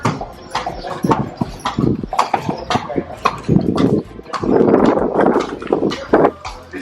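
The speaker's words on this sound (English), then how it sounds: "Guys, so we're on the horse now." Horse hooves clip-clop on city streets while pulling a horse-drawn carriage, a steady rhythmic clatter of steps close by, with occasional voices and street noise mixed in.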